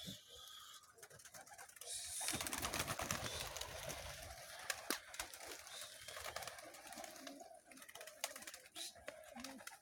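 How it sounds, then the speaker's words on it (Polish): Pigeons coo softly in a quiet space in the evening, low murmuring calls alongside rustling and fluttering, fairly faint and close. "Tak męczyć gołębie z wieczora."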